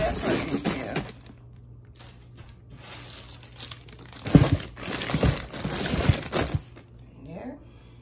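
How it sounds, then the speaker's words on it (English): A big plastic bag crinkles and rustles in loud bursts while peppers from a garden are packed into it, close up, with quieter gaps between the handling noises. "I got a big plastic bag in here. And then I'm going to put the pepper in here."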